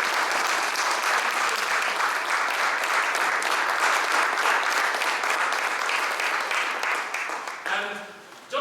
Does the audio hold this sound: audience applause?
yes